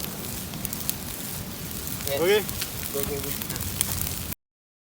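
A campfire built in the jungle crackles and hisses steadily beside three dishes cooking near it, including roast chicken and fish pais, while a voice briefly speaks partway through.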